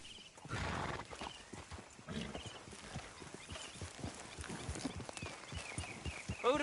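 Horse hooves clip-clop in a steady rapid gallop in the video game Red Dead, joined by a whinny, with a faint voice beneath.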